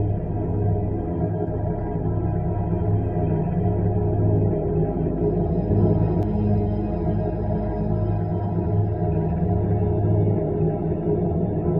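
Billed as a mysterious Moon sound sent by the Pragyan rover and Vikram lander, a steady, moderately loud low hum carries eerie, whale-like wavering tones throughout, with no speech.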